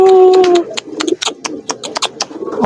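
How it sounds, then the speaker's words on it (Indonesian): Pigeons at a pigeon seller's place in Brebes, Central Java, coo and flutter in a quick irregular series of short, close calls after a brief steady tone at the start, with some background noise. "Burungnya masih giringan baru ini."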